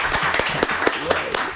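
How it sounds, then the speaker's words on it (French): Brief scattered applause from a small audience at a sports quiz match between Bam and Université Nangui Abrogoua, with a few sharp individual claps standing out over crowd murmur and nearby talk. "Oh là là, on applaudit quand même."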